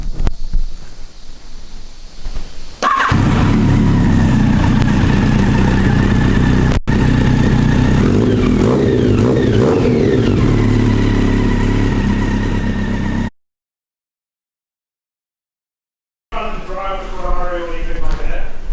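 A Yamaha XJR1200 motorcycle, part of a charity build, cranks and starts with a loud close rumble, then idles and revs roughly, cuts to silence, and a short engine burst follows at the end; a voice is faint beneath.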